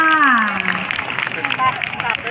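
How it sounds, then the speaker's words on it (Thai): Channel One31 actors receive a crowd's applause at an outdoor offering ceremony for Phaya Si Sattanakharat in Nakhon Phanom: steady, moderately loud clapping follows a voice over a PA and continues under it. "ขอเสียงปรบมือให้กับนักแสดงด้วยค่ะ"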